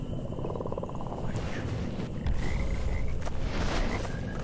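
A frog in the game Mortal Shell croaks in a steady low rattling pulse, fairly close, with game ambience behind it and occasional higher tones, and no one talking.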